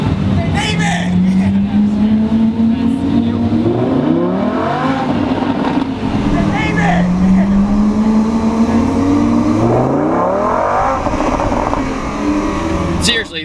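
A Lamborghini engine roars loudly and continuously as the car accelerates, its pitch climbing in repeated sweeps broken by abrupt forceful gear shifts, with voices talking over it.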